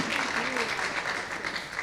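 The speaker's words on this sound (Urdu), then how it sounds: "میرا خیال ہے اس کے لیے تالیاں تو بجا دیں." Audience at a public address in Pakistan applauds with a steady wash of clapping, fairly close and even, while a voice speaks briefly over the start.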